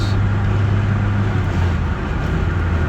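A 1988 Ford Ranger XLT pickup with a 2.3L engine and 5-speed manual cruises at highway speed, its steady low engine drone and road roar filling the cabin continuously and fairly loudly.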